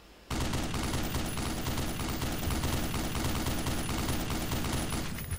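Sustained rapid gunfire from a weapon in Black Mesa starts abruptly and continues as a loud, dense stream of shots for several seconds.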